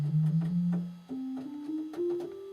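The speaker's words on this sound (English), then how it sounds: "Now I've just got a basic sine wave," A basic sine wave from a Novation Supernova synth plays a few plain, quiet tones that step upward in pitch, alone and clean over about two and a half seconds.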